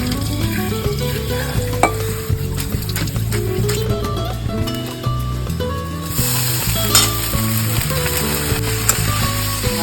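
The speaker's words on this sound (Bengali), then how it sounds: "এটা জলটা দিচ্ছি।" Rice noodles sizzle and fry loudly in a pan as water is poured in, a dense continuous hiss with scattered clinks of a utensil, while steady background music plays underneath.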